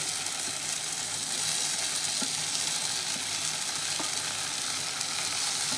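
Chopped boiled egg pieces sizzle in a frying pan for an egg roll, a steady dense crackle and hiss with faint scrapes of stirring throughout.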